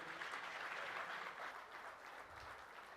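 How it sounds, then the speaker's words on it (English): An audience at a summit on global uncertainty applauds its moderator, a soft, dense, even clapping heard from a distance that carries on through the whole stretch and eases slightly near the end. "Can we have a round of applause for you?"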